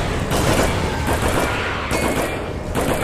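Pistol gunfire in the Aliens vs Predator video game: a loud, dense burst of rapid shots that pops and crackles steadily for about three seconds with no voices over it.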